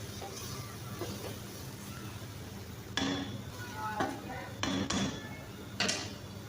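Kaddu gosht, a mutton and pumpkin curry topped with green coriander, being stirred and mixed in a pot, with a few clear metallic clinks of a spoon against the pot amid soft background scraping.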